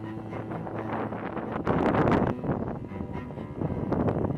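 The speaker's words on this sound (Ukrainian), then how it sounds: "У нас тут таке щось відбувається, вітер як на морі." Strong gusting wind roars and buffets the microphone in a normally sheltered corner of a Carpathian mountain spot, swelling into louder blasts midway and again near the end, with no talk.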